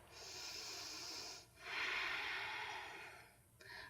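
Steady yoga breathing close to the mic, with long rushing breaths through the nose, a short pause and then another breath, heard alone without talk.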